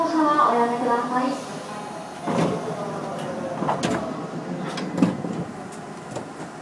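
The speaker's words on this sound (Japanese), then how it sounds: "2番線ドアが閉まります。" On a Tobu Tojo Line express train, a short electronic chime plays, followed by several heavy sliding thuds as train doors shut, with steady rumbling background noise throughout.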